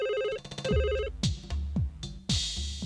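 A telephone rings with a repeated electronic warble, then a series of loud, close ringing bursts in a steady rhythm.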